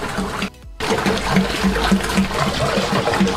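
Water flows steadily from a homemade wheel pump into a small basin, a continuous close splashing trickle that stops for a moment and then resumes.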